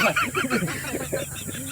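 Domestic fowl clucking and honking close by on a jungle trek, a run of short, loud, repeated calls filling the whole moment with no talk over them.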